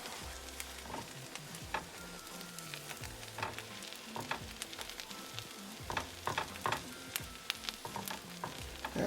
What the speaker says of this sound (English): Cut it halfway, then put it right on top of that butter.